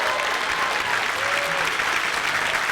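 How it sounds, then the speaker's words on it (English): An audience applauds at a film festival Q&A with director Taika Waititi, a steady and dense wash of clapping that holds at an even level throughout. "Let's give him another round of applause."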